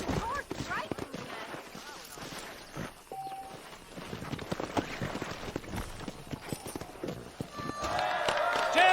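Hooves clop rhythmically as a horse runs in the Red Dead Redemption video game during a race, a quick drumming gait under in-game talk, with the noise swelling toward the end.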